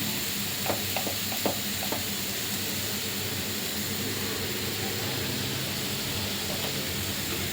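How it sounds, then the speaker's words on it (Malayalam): A spiced coconut curry mixture with turmeric and salt is stirred in a pan over a steady hiss of gentle sizzling. A few soft scraping knocks sound early, then the stirring settles into a continuous even texture. "നല്ലോണം മിക്സ് ചെയ്യുക"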